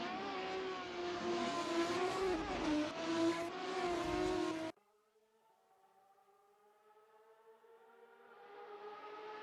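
Race cars at Phillip Island roar loudly at full throttle in a state-level circuit race, with a sustained engine howl that cuts off abruptly. A distant engine then builds slowly again, rising in pitch as it nears.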